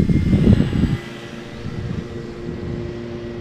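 A radio-controlled model airplane buzzes overhead, briefly loud at first, then fading to a faint steady drone in the distance.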